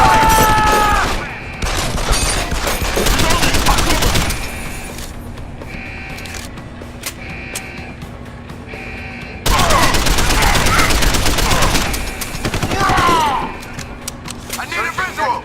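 Gunfire erupts in bursts during a Deus Ex: Human Revolution firefight, loud rattling volleys at the start and again midway, with quieter mechanical stretches between and game voices calling out over the action.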